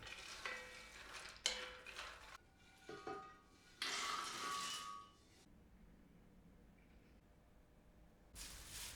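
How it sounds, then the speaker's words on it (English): Nuts and walnuts toasting in a pan, with a stir, a few clinks and bursts of dry sizzling rattle in separate loud stretches, then a quiet pause before the rattle returns. "So the first thing is to toast the nuts a bit."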